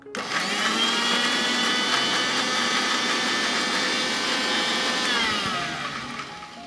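A blender whirs loud and steady as it grinds green chillies with a little water into paste, running continuously for several seconds before winding down near the end.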